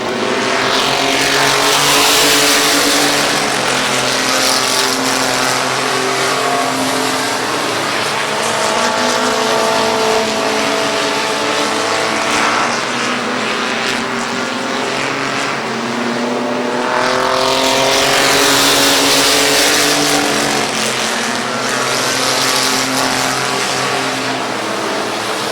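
Race cars at Midvale Speedway in 2020, a loud, continuous roar of several engines at full throttle, rising and falling as the pack sweeps past and comes around again.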